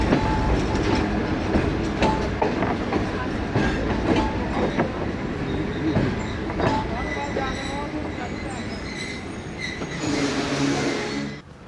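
Passenger train, the 28 Down Shalimar Express, rolling into a station in Pakistan and coming to a halt, with loud rumbling, clattering wheels and brake squeals near the end, voices talking over it.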